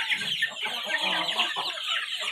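Free-range village chickens about a month old cluck steadily and close by, several birds overlapping in a continuous busy chatter with no voices.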